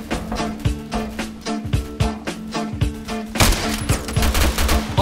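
Rapid game gunfire from Phantom Forces, a Roblox shooter, rattling in dense bursts of sharp shots over a steady mechanical backdrop, growing louder and more continuous near the end.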